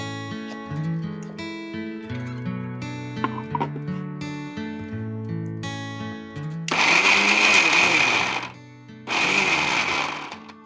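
A mixer blender set to whipper mode runs in two short bursts with cabbage, each a loud, harsh whirring roar of about two seconds, following a stretch of background music.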